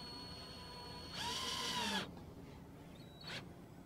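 A Hyper Tough cordless drill with a keyless chuck drives a screw into a board, a near, whirring motor run of about a second rising in pitch, followed after a pause by a brief second burst.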